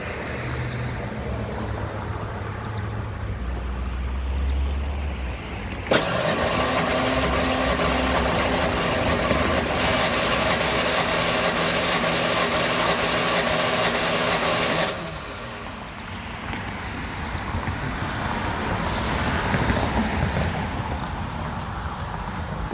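A 1996 Ford Ranger 3.0L engine cranks over steadily for about nine seconds during a compression test, a loud, even starter-driven churn that starts and stops abruptly against quieter garage background.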